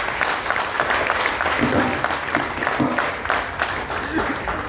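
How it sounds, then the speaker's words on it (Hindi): Dense, enthusiastic applause from a big crowd at a political rally welcoming a speaker fills the whole clip, close and loud, with scattered voices mixed in. "आप लोग ज़ोरदार तालियों से स्वागत कीजिए"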